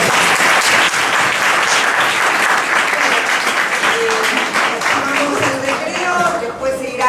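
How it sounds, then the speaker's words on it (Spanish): An audience at a history lecture applauds, loud and continuous clapping close by, with a few voices starting to murmur under it as the applause thins toward the end. "Bueno, otro aplauso."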